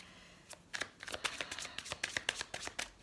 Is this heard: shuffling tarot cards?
yes